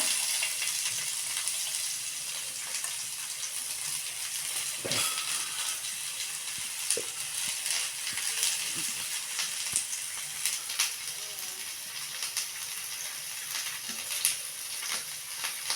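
Onions fry in a pan for chutney, giving a steady hissing sizzle throughout, with occasional soft clicks and stirring bumps, and no voices.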